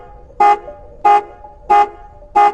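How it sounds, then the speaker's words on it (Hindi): A car security alarm sounds at night in four loud, evenly spaced horn-like blasts, each about a third of a second long, with short gaps between them and no voices. "रात में अचानक मेरी गाड़ी का सिक्योरिटी अलार्म बजने लगा।"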